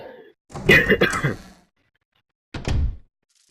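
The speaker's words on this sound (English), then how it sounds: "Let's try going through this door" A door opening in the video game Resident Evil HD: a longer heavy rumbling burst, then silence, then a second shorter thud, loud and close with nothing else behind it.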